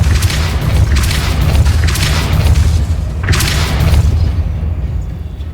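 Repeated heavy booming blasts of the Depulso force-push spell in Hogwarts Legacy, three or four loud bursts with crackling tails over a constant low rumble.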